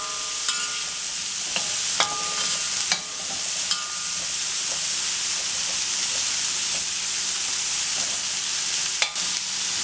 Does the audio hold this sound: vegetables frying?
yes